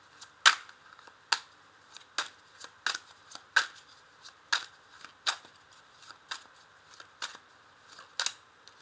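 Tarot cards snapped and laid down one after another on a table, a crisp, close slap roughly every half second to second, with no voice over them.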